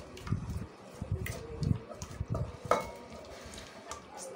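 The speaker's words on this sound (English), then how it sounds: "So you stir it very well." Abacha is stirred with potash water in a pot, giving soft, irregular scraping and sloshing strokes close by with a few light clinks.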